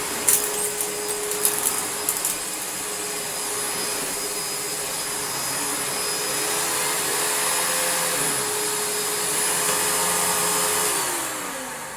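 A Panasonic MC-E465 bagged upright vacuum cleaner runs steadily and close by, with a sustained motor whine and a constant hum. A few brief clicks come at the start, and the motor drops away near the end.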